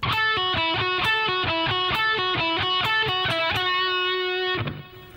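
Distorted electric guitar repeats a quick four-note phrase from a guitar solo several times in a steady rhythm, ending on a held note that cuts off.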